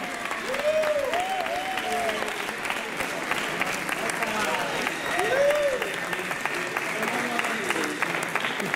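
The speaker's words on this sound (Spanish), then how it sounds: "¡Un fortísimo aplauso!" Audience applause steady throughout at an award presentation for the best Camerana hen at a poultry show, with talk and voices mixed over the clapping.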